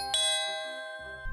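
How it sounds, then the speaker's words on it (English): A two-tone doorbell chime rings once, clear and ringing out before fading, then a small knock or bump at the end. "The doorbell. We have visitors."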